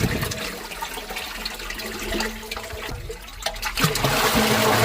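Water from a pump flows steadily along a furrow in a sugarcane field, a continuous rushing and trickling sound that swells louder near the end.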